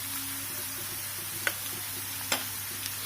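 Broken dried red chilies roasting in hot oil for a winter saag, with a soft, steady sizzle and a couple of sharp crackles or scrapes, faint and close with no talking.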